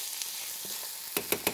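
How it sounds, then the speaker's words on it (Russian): Onions frying with spices and a cinnamon stick in a pan for Bengali-style fish, a steady close sizzle with a few sharp knocks or stirring clatters near the end. "Вот посмотрите, как опять жарится лук."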